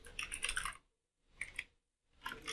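Fingers type on a computer keyboard in two quick bursts of close, crisp key clicks separated by short silent pauses, with no talking.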